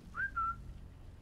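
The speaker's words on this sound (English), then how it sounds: "If I can get a whistle in." The player character whistles in the video game Sniper Elite 5, giving a brief two-part whistle with a rising first note and a slightly lower second one, clear against quiet low background rumble.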